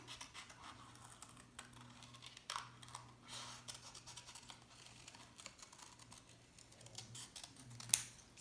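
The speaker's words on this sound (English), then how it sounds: "So there we go, I'm cutting on my first line." Scissors cut along a drawn line on paper for a notan design, making soft repeated snips and crisp crunches close by at low volume, with a sharper click near the end.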